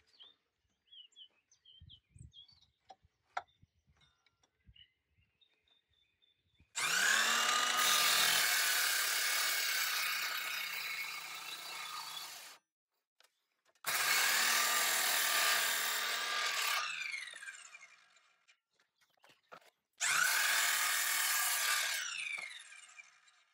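Wooden boards being trimmed square at the ends with a saw: three long, loud, close bursts of sawing separated by short pauses, with faint birdsong and light handling noises in the quieter stretches.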